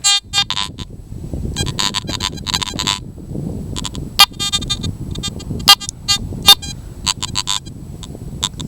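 A Garrett ATX metal detector is swept over a seam of hot iron ground, giving a series of sharp, tonal electronic beeps and warbling signals in irregular bursts over a low rumbling background.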